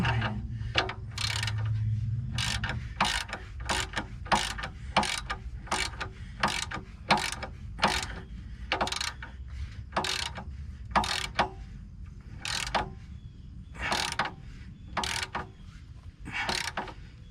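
A ratchet wrench tightens exhaust bolts on a catalytic converter of a 2011 Nissan Altima 2.5, giving rapid repeated clicking bursts in a steady rhythm, close and distinct.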